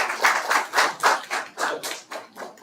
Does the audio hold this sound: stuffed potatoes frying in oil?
no